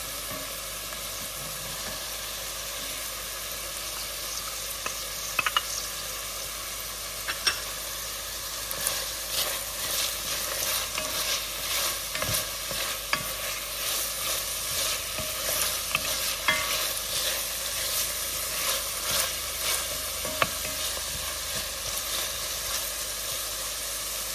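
Garlic and red peppers sizzle and fry steadily in a pan, a continuous hiss with scattered stirring clicks and scrapes throughout, fairly close and alone.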